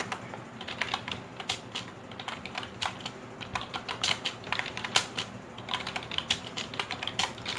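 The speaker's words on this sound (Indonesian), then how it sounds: "Jadi aku ngetiknya itu nggak melihat keyboard lagi" Fast touch typing on a computer keyboard: a dense, rapid stream of crisp key clicks with brief pauses, close and alone without speech.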